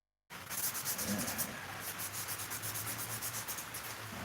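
Rhythmic rubbing and scraping of 400 grit sandpaper against a workpiece spinning on a drill press, a steady back-and-forth pulse over a low motor hum, starting abruptly and continuing close up.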